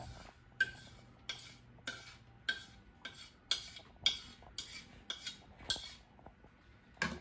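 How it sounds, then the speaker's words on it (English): A utensil scrapes and clinks rhythmically against a bowl while dry brownie mix is folded into the wet batter, roughly a dozen quiet strokes with no talking. "Then you're going to want to go ahead and mix that until it's just combined."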